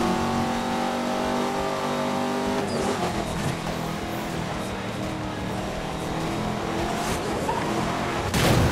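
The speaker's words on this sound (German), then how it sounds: "Oh, der Nitro hält aber lang bei dem Auto." Car engine roaring under nitro boost in Need for Speed Most Wanted, a steady loud racing drone with a tonal whine early on and a sharp rise at the very end.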